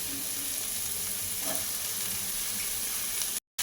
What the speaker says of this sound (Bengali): তো পেঁয়াজটা এখানে তেলে ভালো করে কষিয়ে নেবার পর এর মধ্যে সমস্ত সবজি দিয়ে দেব